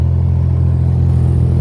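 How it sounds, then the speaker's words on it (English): A classic car with dual exhaust idles at a car show, giving a brief, close, steady low rumble with a throbbing, even beat and no talking. "Sounds like dual exhaust to me."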